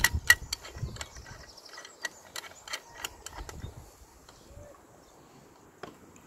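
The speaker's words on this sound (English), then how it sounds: "So, you need this tool to screw it on." Clicking ratchet-like turns of a tool tightening a roof rack fitting onto an Opel Astra K, sharp irregular ticks spaced out over a quiet background with occasional soft handling noise.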